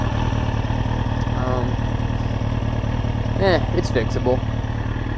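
A 2003 Kawasaki ZX6R motorcycle idles steadily and smoothly close by, with a constant low engine drone running throughout while people talk briefly over it.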